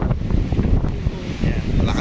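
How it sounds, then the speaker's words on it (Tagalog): Strong wind roars and buffets the microphone continuously, a loud low rumble with no pauses. "Malakas ang hangin, no?"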